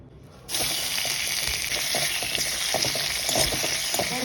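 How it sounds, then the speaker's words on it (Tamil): Pirandai, the adamant creeper, is dropped into hot ghee in a kadai and bursts into a loud, continuous sizzle after a short quiet moment, crackling steadily with occasional stirring pops. "ஒரு கடாயில் நெய்யை ஊற்றி பெரண்டையை நல்லா வதக்கிங்கோ."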